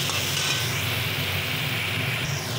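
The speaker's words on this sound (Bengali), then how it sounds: "আমরা একটু পোস্তটাকে নাড়াচাড়া করে একটু ভেজে নিই" Poppy seeds are stirred and lightly fried in a pan while cooking ridge gourd and potato, giving a steady soft sizzle with faint scraping of the spatula, close and continuous without talk.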